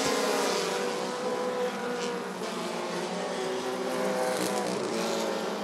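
Short track race cars running a feature race at Rockford Speedway, a dense roar of several engines at full throttle, steady and loud with slight swells as the pack circles.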